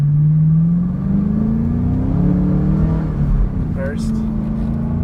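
A 2010 Chevrolet Camaro SS/RS accelerates through the gears with a loud, close engine drone. The pitch climbs steadily, then drops briefly at a shift near the end, and a voice talks over it.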